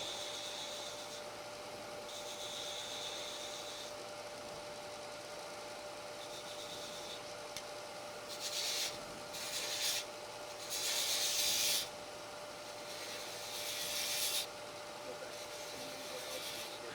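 A small spindle gouge cuts a tiny cove into a small wooden piece spinning on a lathe, giving soft, close scraping strokes in short bursts over a low, steady motor hum, with a few louder passes near the end.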